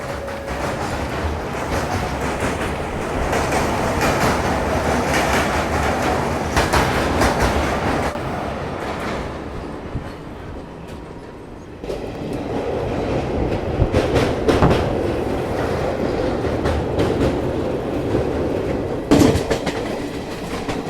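Passenger train rumbling past at steady speed while overtaking the Krishna Express, with continuous clickety-clack of wheels on rail joints, loud and close, briefly easing mid-way before the rolling roar resumes.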